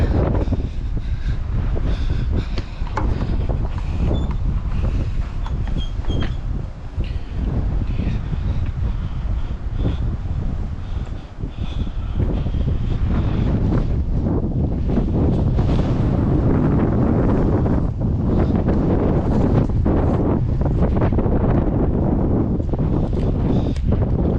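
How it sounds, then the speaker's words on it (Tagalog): Strong, continuous wind in a park buffeting the microphone, a loud roaring rumble that barely lets up for the whole stretch. "Mahangin na dito na park."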